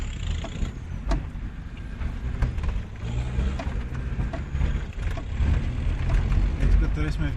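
A car's turbocharged engine drones with a rough, tractor-like low rumble throughout, steady and fairly loud with a faint whine above, while people talk over it inside the cabin.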